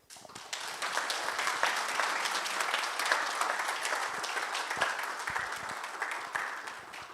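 Audience at a seminary cultural-week keynote lecture applauding to welcome a speaker from the Pontifical Gregorian University in Rome; steady, dense clapping fills the room for about seven seconds, fairly loud and without talk.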